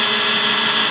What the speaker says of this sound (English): Now we're going to drill all the way through.